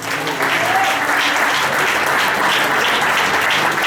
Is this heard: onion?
no